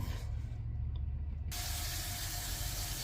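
Water runs steadily from a tap into a cooking pot for boiling rice, a continuous rushing splash that brightens partway through as the flow strengthens.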